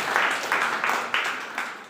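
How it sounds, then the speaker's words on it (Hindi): A whole department applauds loudly to welcome two girls at a retirement speech, a dense crowd of hands clapping in steady waves with no talking over it. "एक बार पूरा विभाग इन दोनों बच्चियों के लिए जोरदार तालियों से स्वागत करें"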